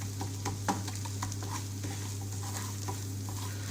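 Gram flour stirred through hot oil with ajwain seeds, roasting for a dhaba-style tandoori chicken marinade, gives a low continuous sizzle with soft scraping strokes and an occasional utensil tap over a steady hum.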